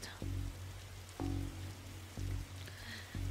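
Rain falls steadily in the Darkside Detective video game, a faint soft hiss broken by a few evenly spaced dull thuds.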